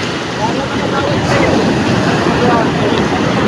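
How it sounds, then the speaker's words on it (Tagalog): Ocean waves wash onto a beach at a busy fish landing, a continuous rushing surf with wind noise on the microphone, loud and close, with people talking nearby. "Binasa talaga ako ng alon na yun."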